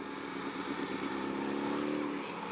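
A Suzuki Hayabusa motorcycle engine drones steadily at mid distance at a drag race, its pitch rising slightly as it revs, with a constant roar throughout.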